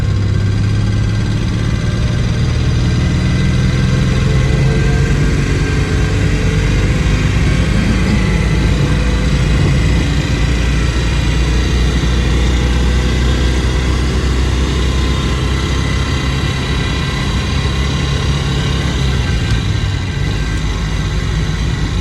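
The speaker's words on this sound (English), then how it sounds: "here we're just engaging the centrifugal clutch in third gear to gently pull." Original early Citroën 2CV engine pulling away gently in third gear through its centrifugal clutch, a loud, steady, buzzing drone that holds nearly constant for over twenty seconds.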